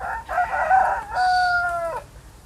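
A rooster crows once, close and loud, a long drawn-out call with a rising start and a held tone that fades out near the end, heard at a small rural house with no talk over it.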